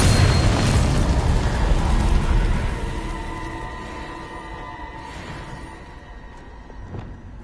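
Bombarda blasting spell cast in a Hogwarts video game, a loud booming explosion with a rumbling tail that fades over several seconds, followed by faint pops.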